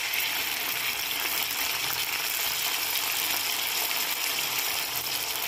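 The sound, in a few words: pouring salted water into hot oil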